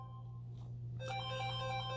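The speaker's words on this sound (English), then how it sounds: "that's someone else's phone" A mobile phone rings in the audience during a church sermon, a tonal ringtone melody that starts partway through and continues fairly faintly over a low hum.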